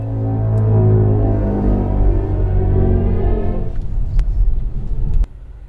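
A BMW electric car accelerating in expressive mode gives off a loud, steady synthetic drive sound with layered humming tones that swell and then cut off sharply near the end, leaving a quieter background.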